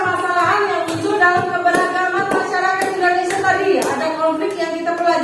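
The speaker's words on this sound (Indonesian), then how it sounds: "Tepuk tangan." A classroom of students claps hands together, loud close irregular clapping with sharp individual claps, some children's voices mixed in.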